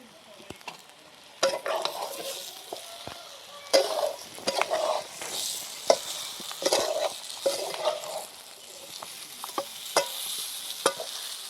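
Stuffed bell peppers frying in masala in a pan, with a steady sizzle and repeated scraping stir strokes, fairly close and moderately loud with no talking.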